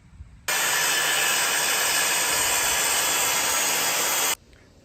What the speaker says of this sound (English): we just use a table saw and rip the 1x4 in half.